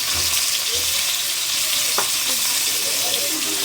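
Onion sizzles steadily in hot oil in a pan, cooked for adobong kangkong. The frying hiss is close and continuous, with a few faint clinks, and no one speaks.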